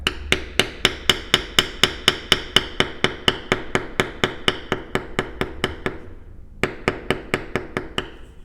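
A leather beveling tool is struck steadily with a mallet while tooling a leather card holder, giving about thirty sharp, evenly spaced taps at close range with a brief pause before the rhythm resumes.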